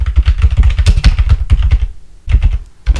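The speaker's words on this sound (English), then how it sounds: "So here we're going to type in Masternode gen key" Rapid keystrokes on a computer keyboard as a command is entered, a dense burst of clicky taps followed by a short pause and a few more keys, close and fairly loud.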